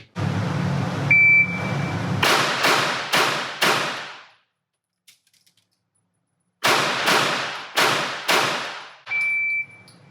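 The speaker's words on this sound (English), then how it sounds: "Fire 4, reload, and fire 4 more, again in 8 seconds" A Glock pistol with a 15-round magazine fires four quick shots at a range, then a pause with faint clicks as the magazine is swapped, then four more sharp cracks; a beep timer sounds before and after each string.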